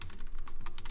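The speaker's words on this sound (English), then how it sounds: "So I'll type in brew install cmatrix," Rapid keystrokes on a computer keyboard as a terminal command is entered, a dense run of close clicks and taps with no voice over them.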